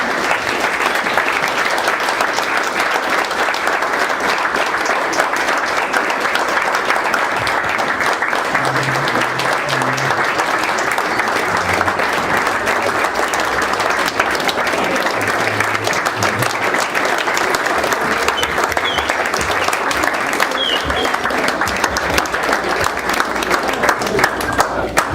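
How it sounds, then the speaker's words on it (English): Sustained applause from a dinner audience honoring Mark Pappas, a dense, steady clapping crowd that holds at a loud level throughout. "let's just put our hands together and give Mr. Mark Pappas a clap"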